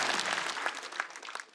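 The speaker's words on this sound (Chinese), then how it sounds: "掌声再给宋万博" Applause from a stand-up comedy show audience after a comedian's set: a dense, steady patter of clapping with sharper bursts, sustained throughout at moderate loudness.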